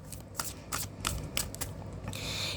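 Tarot cards shuffled by hand in quick, close riffling bursts over a soft background hum, ending in a longer brushing sweep, with no speech.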